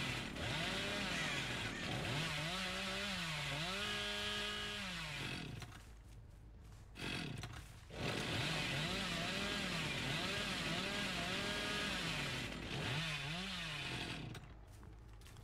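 Chainsaw revving in a video game, a buzzing engine that repeatedly winds up and drops in pitch in wavering bursts, with brief near-silent gaps between runs, steady and fairly loud.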